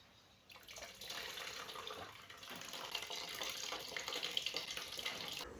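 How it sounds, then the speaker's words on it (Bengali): Starchy water pours off a pot of cooked rice as it is drained in a home kitchen, a continuous splashing, gurgling stream running close and steady for several seconds. "মার ছেঁকে নিচ্ছি ভাতের।"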